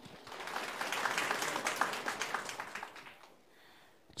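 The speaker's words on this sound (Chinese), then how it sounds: "大家掌声欢迎" Guests applaud at the opening ceremony of a Chinese pool masters tournament, a short, moderately loud round of clapping that swells and then dies away.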